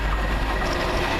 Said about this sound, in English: Here comes the Birmingham to Euston Virgin service